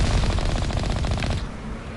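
Loud rapid-fire automatic gunfire from a weapon in Mass Effect, a dense continuous rattle of shots lasting about one and a half seconds before cutting off to a softer lingering tail.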